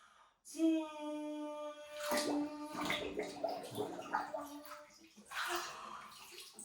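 A baby or small child blowing bubbles in bath water during a swim-readiness lesson, with soft bubbling and gurgling bursts mixed with a sung, tonal voice and an adult speaking nearby.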